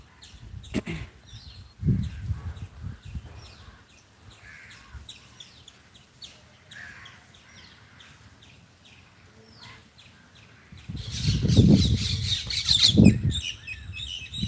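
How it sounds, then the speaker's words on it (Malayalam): Birds squawk and call outdoors, with crow-like caws scattered through a quiet stretch that builds into a louder burst of harsh cries toward the end. "പക്ഷികളാണ് ഇവിടെ ഫുൾ കേട്ടോ ഫുൾ ടൈം നല്ല പക്ഷികളുണ്ടാവും"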